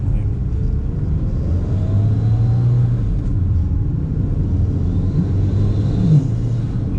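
A 1994 Toyota MR2 GT with a turbo engine drives along, its low steady engine rumble heard from inside the car, loud and continuous with slight rises in pitch.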